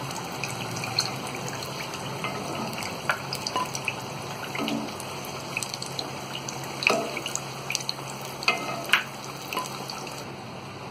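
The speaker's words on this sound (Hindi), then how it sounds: "अब इसमें हम ये आलू के पकोड़े तलेंगे" Potato pakoras frying in oil, a steady close bubbling sizzle with scattered crackles and pops throughout, no voices.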